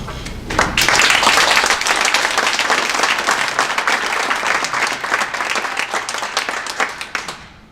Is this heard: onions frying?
no